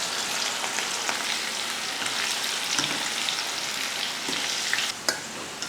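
Potato snack deep-frying in hot oil, a steady dense sizzle and crackle that holds loud and close throughout, with a few sharper pops and stirring scrapes near the end.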